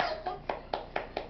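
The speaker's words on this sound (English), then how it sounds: "Clap your hands." A small child's hands clap about five times in a quick, even rhythm. The claps are close and soft and follow a brief bit of voice at the start.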